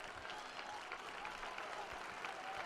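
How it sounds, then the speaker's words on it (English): Crowd at a high school Division 4 baseball state championship in Canton, Pirates fans, clapping steadily as the applause swells, a dense patter of many hands at moderate distance with no talk over it. "They got that slow clap turning into a whole bunch of people rising up to the occasion here in Canton"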